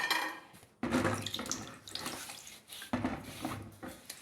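Tap water runs into a sink while something is washed during breakfast prep, a close, uneven splashing and gushing with abrupt bursts and clatter, no talking over it.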